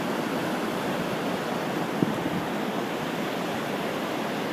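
Big ocean waves breaking at Hanalei Cove, a steady broadband wash of surf with a faint thump near the middle, continuous and fairly distant with no voices.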